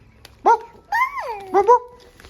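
A puppy lets out several close, high whining yelps and a drawn-out whimpering cry with rising and falling pitch, separated by brief pauses.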